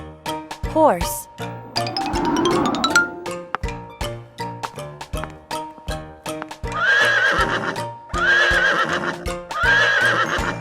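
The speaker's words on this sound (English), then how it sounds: "Horse." Horse in a cartoon farm-animal learning segment for children: a loud, close whinny rises and falls, followed by rhythmic clip-clop hoofbeats, light bell jingles and further neighs, with bouncy music and a voice over it.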